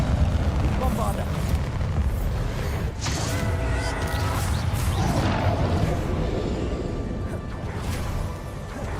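A Bombarda blast in Hogwarts Legacy erupts amid heavy battle noise, booming and crashing with creaking debris in a sustained loud rumble, with a voice heard over it.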